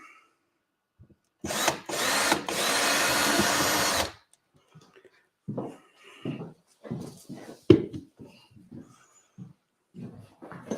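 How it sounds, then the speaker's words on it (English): A power drill whirs loudly for about two seconds, then stops, followed by scattered knocks and short clattering sounds nearby. "I have my drill with me."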